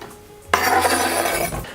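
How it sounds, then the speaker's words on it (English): Aubergine dropped into a pan of warm olive oil sets off a sudden loud sizzle that holds steady for about a second before easing off, alone with no talk. "now that's warm, we're just going to add the aubergine straight into the pan"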